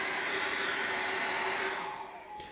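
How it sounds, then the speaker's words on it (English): A hair dryer blows warm air steadily over an acrylic landscape painting, a loud continuous whooshing roar that holds level and then eases off near the end. "Let's get a little bit of warm air on that and just dry it off, I think."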